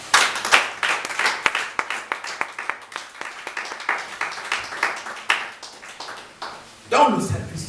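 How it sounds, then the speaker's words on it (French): A church congregation claps in a fast, loud, rhythmic burst of applause, with voices rising among the claps and a brief swell of cheering near the end. "Tu peux acclamer la partie."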